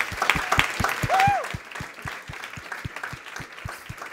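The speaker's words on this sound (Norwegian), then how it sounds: "Gi dem en applaus" Sparse, evenly spaced hand claps at a debate evening, a few close sharp claps in a steady quick rhythm rather than a full crowd, with some brief voices and a tone near the start.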